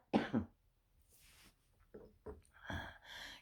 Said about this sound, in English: I've been coughing more today since it's cold weather